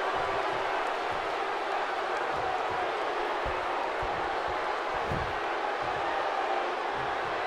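Wrestling arena crowd roaring in a steady, dense wash of cheering and shouting that fills the whole stretch, with a few thumps and louder swells rising from the noise.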